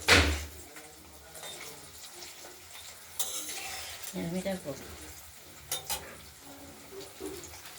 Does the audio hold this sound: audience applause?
no